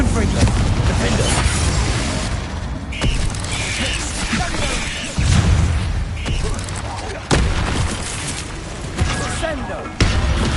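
Spells crackle and boom in the Hogwarts video game, fire and blast effects with mechanical creaks and impacts, loud and continuous, with voices casting over them.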